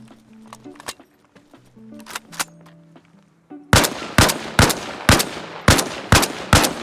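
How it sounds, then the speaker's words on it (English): An AK rifle fires repeatedly at a vehicle's latches, the first few shots sparser amid quieter sounds, then a loud, evenly spaced string of sharp reports close by. "So you shoot through the latches here on the left side of the vehicle"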